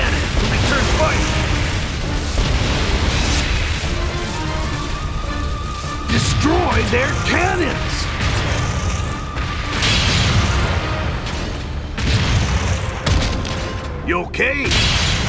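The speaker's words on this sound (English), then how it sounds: "Use this cannon to return fire." Cannon fire and explosions from the 2014 arcade PC game Lost Land Adventure: dense, continuous rumbling booms and blasts layered over game music, with voices shouting throughout.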